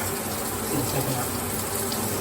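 Water spraying from a new shower head cycling through its spray settings, a steady hissing rush of water with a brief spoken voice over it.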